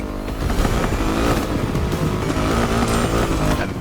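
A Triumph Rocket 3 with a 2.5-liter engine in The Crew Motorfest, a loud, continuous engine roar with revving and some tire noise throughout, no talk.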